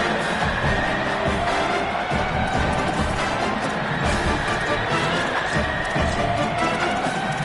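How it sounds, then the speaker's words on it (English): A college football stadium crowd at a Michigan game roars and cheers for the defense in a sustained, loud wash of distant voices that holds steady throughout. "The crowd gets behind this defense."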